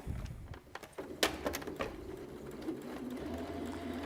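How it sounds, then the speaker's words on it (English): A sewing machine stitching along lace layers runs in uneven bursts, with close mechanical clicks and taps over a steady low hum. No one speaks. "My sewing machine just got a little bit chewed up then"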